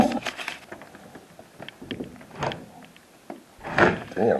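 A door is opened or closed indoors, with several knocks and thunks spread across the clip and a louder clatter near the end, nearby with no speech.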